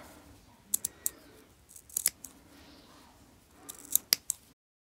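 Scissors snip through knitting yarn while cutting along a knitted tube to split it into two socks, a handful of sharp, close clicks in small bursts over a quiet background.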